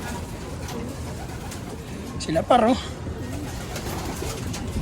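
Pigeons coo in a short cluster near the middle, set against steady outdoor background noise while someone talks over them.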